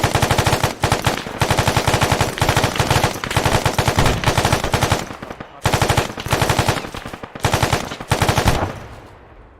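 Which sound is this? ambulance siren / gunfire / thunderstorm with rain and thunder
gunfire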